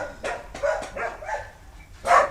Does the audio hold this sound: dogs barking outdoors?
yes